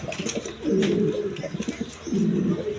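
Pigeons being sold as egg-laying breeding birds coo in two clear, repeated bursts, close and fairly loud, with a short lull between them and faint background chatter.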